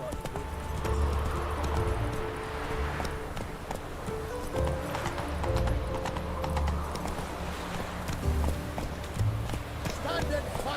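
Horse galloping in the video game The Witcher 3, rapid rhythmic hoofbeats with occasional snorts under game music and voices, the pounding steady and close throughout.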